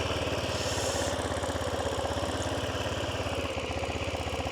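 A GY6 150cc scooter engine idling just after its first startup, giving off a steady, close, even putter with a rapid regular pulse and no voices.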